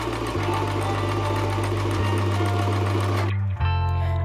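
A sewing machine stitches a seam back to its starting point with a steady, loud motor whir, pausing briefly near the end before running on again.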